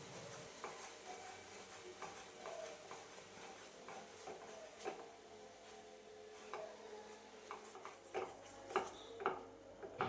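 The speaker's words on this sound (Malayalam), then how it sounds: "കൈവിടാതെ തന്നെ നന്നായിട്ടൊന്ന് മിക്സ് ചെയ്ത് കൊടുക്കുക." Caramelised sugar and milk stirred together in a pan, a spoon scraping and clinking against the metal in irregular taps over a soft bubbling hiss, close and fairly quiet with no talking.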